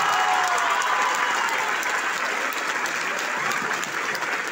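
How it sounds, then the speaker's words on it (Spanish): An auditorium crowd applauds warmly for a singer's mother at a concert, a dense, steady wash of clapping that carries evenly from start to finish without speech. "Quiero que le den el aplauso más caluroso de la noche a mi madre"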